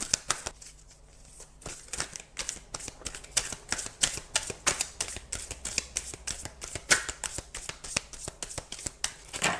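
Oracle cards from a tree-soul deck being shuffled and drawn, a rapid run of crisp riffling snaps and flicks close up, with a brief quieter pause near the start and no talking.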